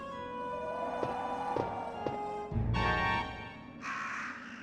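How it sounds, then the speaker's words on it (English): Crows caw in the video game Resident Evil, several harsh calls spaced out over rumbling game ambience, followed by a couple of louder rough squawks toward the end. "He's been pecked to death by crows."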